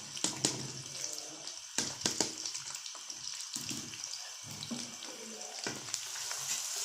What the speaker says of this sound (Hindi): प्याज को अच्छे से हम ब्राउन कर लेते हैं